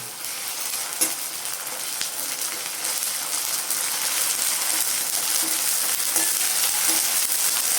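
Ginger garlic paste sizzles in a hot pan while making chicken gravy, a steady soft crackle running throughout with a few light clinks of a stirring spoon.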